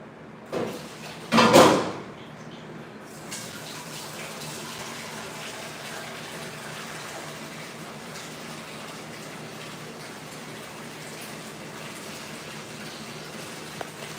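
Fresh water pours and splashes into a dog's bowl in a garage, a brief gushing burst near the start after a clunk, then a steady rushing hiss of running water continuing in the background.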